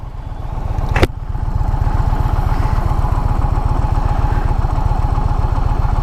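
A 2024 Indian Challenger Dark Horse motorcycle cruising on a highway, its engine giving a steady, rhythmic low rumble throughout alongside wind noise, with one brief sharp click near the start.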